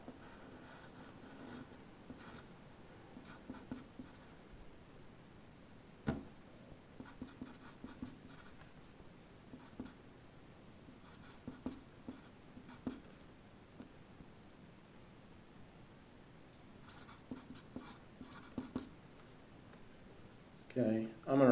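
Pen or pencil writing out the next step of a calculus problem on paper: soft, intermittent scratchy strokes in short bursts, close and quiet, with a louder bump at the very end.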